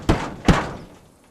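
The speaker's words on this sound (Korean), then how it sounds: "그리고 문을 열고 안으로 들어가는데" Door being opened in a psychological thriller film: two sharp wooden thunks about half a second apart, the second trailing off into a fading rattle, close and loud.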